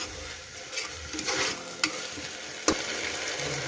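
Rice sautés in oil inside a pressure cooker, giving a soft sizzle with scraping stirs and two sharp clicks of a spoon against the pan.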